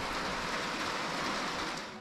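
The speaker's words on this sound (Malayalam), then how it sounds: "നല്ല മഴയുണ്ട് പുറത്ത്." Heavy rain falls outdoors in Kodaikanal, a steady, dense hiss that fills the scene evenly from start to finish and eases slightly at the very end.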